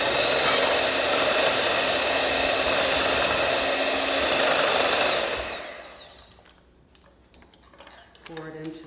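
An electric mixer whirs loudly and steadily through waffle batter in a home kitchen, then cuts off, leaving light clinks and rustling.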